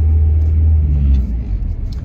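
A car rumbling along a road, with a steady low engine drone that eases off toward the end as the car slows, close and fairly loud with no talk.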